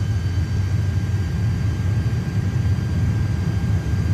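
An Airbus A330 airliner in Microsoft Flight Simulator 2024 produces a steady, loud low engine rumble with a constant whir and faint high tones, unbroken throughout.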